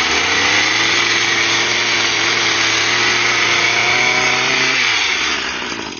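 A RedMax SGCZ2500S brush cutter, used as a bunker edger, runs steadily at low RPM with a loud, close, buzzing two-stroke drone that holds constant and then eases slightly at the end.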